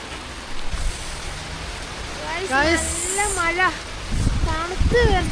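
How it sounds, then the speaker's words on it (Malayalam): Heavy rain pours outside Malik Dinar Mosque in Kerala, a constant broad hiss that fills the background while voices talk over it. "അത്യാവശ്യം നല്ല മഴയാണ് ഗൈസ്"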